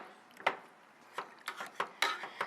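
A potato masher presses canned tomatoes in a skillet, giving a series of soft, irregular squishing thumps and clacks against the pan, quiet and close with no talking.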